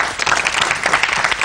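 A short burst of full, busy audience clapping during a student consumer protection discussion, loud and continuous with no pauses.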